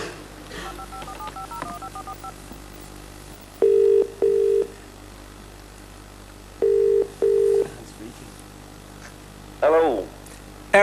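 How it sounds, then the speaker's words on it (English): Touch-tone telephone dialing: two pairs of steady beeps spaced a few seconds apart, with faint tones and a hum behind them, then a brief voice near the end. "I'm going to dial the number now."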